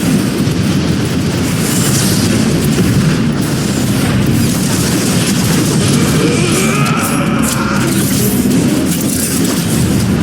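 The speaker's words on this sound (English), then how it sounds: "Grenade and a slide!" A grenade blast in the battle game Transformers: Fall of Cybertron erupts in a loud, dense roar of booming explosion and combat noise that stays at full intensity for the whole stretch.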